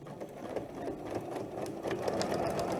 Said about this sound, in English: I start stitching right at the edge